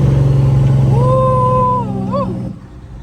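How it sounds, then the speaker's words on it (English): A classic Peterbilt 379 truck's engine drones low and loud, then its pitch swoops and wavers as the driver downshifts, with the rumble easing toward the end. "This is just downshift."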